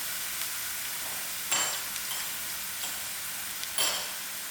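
Mustard seeds and cumin frying in hot oil in a cooking pot, giving a steady soft sizzle with a couple of sharper popping crackles, close by and with no talking.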